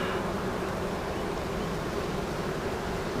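A honeybee swarm buzzes continuously as it is moved into a new hive, forming a dense, steady, close drone from many bees without pause, with no talking.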